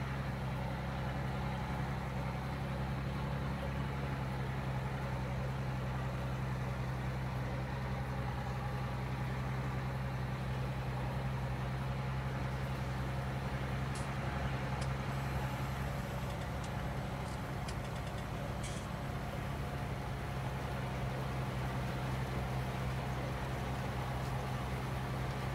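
A tractor engine idles steadily in a low, droning hum with a constant mechanical rumble, unchanging and moderately close for the whole stretch, with a few faint high clinks partway through.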